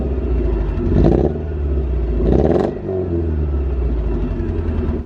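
A Porsche 944 engine runs loud and close at a steady rumbling idle, with two brief revs swelling and falling back. No voices are heard.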